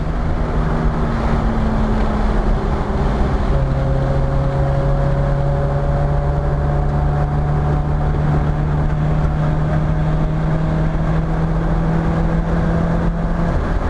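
A Nissan S13 240SX driving on a track, its engine a continuous loud drone with clear pitch changes as it shifts and accelerates, buried in heavy wind noise and no clear speech.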